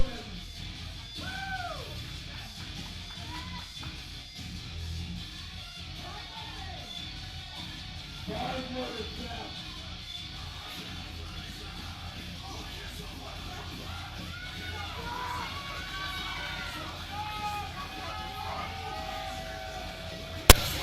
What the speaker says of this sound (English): Sounds like he's got some fans in the crowd.